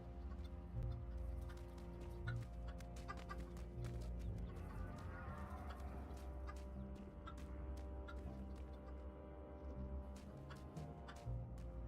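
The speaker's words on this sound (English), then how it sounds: "Undead cows. Oh yeah. Undead chicken." Undead chickens in RuneScape clucking repeatedly in short bursts over a quiet, tonal game background hum, with no speech.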